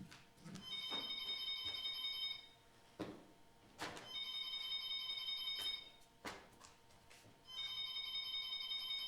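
An old mobile phone's electronic ringtone trills in repeated bursts of high, buzzy tones, pausing briefly between rings, with a few clunks in the gaps.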